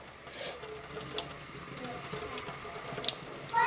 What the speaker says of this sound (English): But I'm just rinsing it out very well. And you see that, it's rinsing clean the whole time.